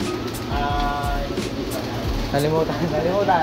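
Pure imported-line pigeons in a loft coo in low, repeated pulses close by, while someone talks over them.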